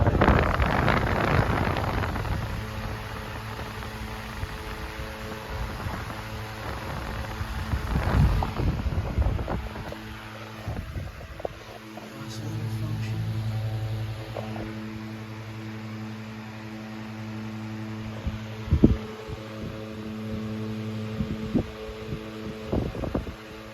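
An antique Robbins and Myers 12-inch brass blade table fan runs on high, giving a steady low hum with tonal harmonics and soft airy rush, punctuated by occasional handling bumps and knocks near the microphone.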